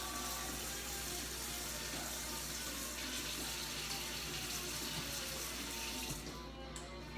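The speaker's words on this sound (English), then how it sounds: "I'm gonna just go ahead and rinse this out with some tap water." Tap water runs continuously from a faucet into a lab container being rinsed, a steady close splashing hiss that lasts nearly the whole stretch before easing slightly at the end.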